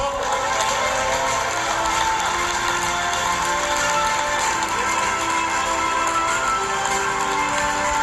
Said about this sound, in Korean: 사인할 때 여러분 박수를 보내주십시오.